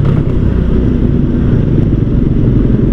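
A Raider 150 carburetor motorcycle engine with big tires idles with a steady low rumble, close by and continuous, with no voices.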